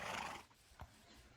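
A horse whinnies in a video game village, a brief breathy neigh fading out, followed by a short snorting burst, all quiet and faint with no talking.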